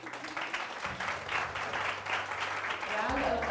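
An audience at a live talk show recording claps in a dense, sustained round of applause, while a voice speaks over it toward the end.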